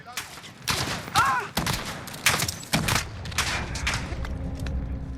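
A Remington TAC-14 shotgun firing 12 gauge shells in Call of Duty Modern Warfare, a run of loud, sharp blasts in quick succession with echoing tails, alone.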